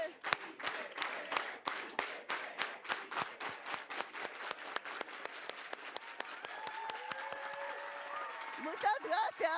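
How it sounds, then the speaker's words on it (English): An outdoor crowd at a California state park dedication claps in unison, sharp evenly spaced beats that are loud and rhythmic, later loosening into scattered applause with faint voices and cheering toward the end. "let's all do it with an organized hand clap"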